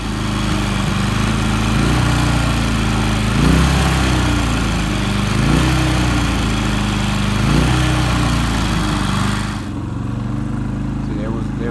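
A Predator 3500 watt inverter generator runs loud and close, its engine rising and falling in repeated revs every couple of seconds before dropping to a steadier note near the end.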